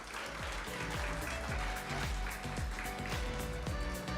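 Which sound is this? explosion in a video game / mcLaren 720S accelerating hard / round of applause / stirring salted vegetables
round of applause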